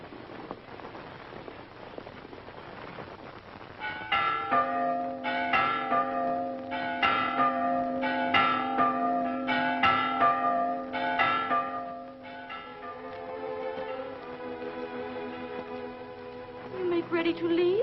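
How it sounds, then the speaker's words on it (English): Church bells chime in a quiet valley, struck in a steady run of ringing tones that overlap and hum on, over a soft background hiss. "It'll be a relief from the gabble of politicians to hear those chimes in a quiet valley."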